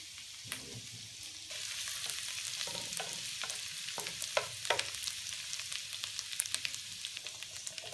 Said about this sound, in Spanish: Y cuando esté caliente el aceite, echamos primero el jengibre picado.